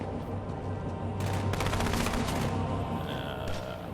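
Heavy gunfire rattles in the video game Halo 2: Anniversary, dense bursts of automatic shots layered over a constant loud battle rumble, with sharper volleys in the middle of the stretch.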